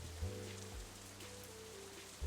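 Steady rain falling on a surface in the visual novel Katawa Shoujo, a continuous soft wash heard alone under low background music tones.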